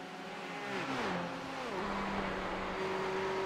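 A race car in a Le Mans endurance sim racing video game, heard onboard: the engine note drops sharply in pitch as the driver lifts off the throttle early, then settles into a steady lower whine, moderately loud with no talk.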